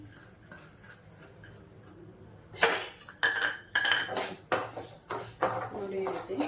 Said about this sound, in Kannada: ಈ ಬಾಣಲೆಗೆ ತೊಗೊಂಡಿರೋ ಹೆಸರುಬೇಳೆ ಹಾಕ್ಕೊಂಡು ಸ್ವಲ್ಪ ಬೆಚ್ಚಗಾಗೋ ತನಕ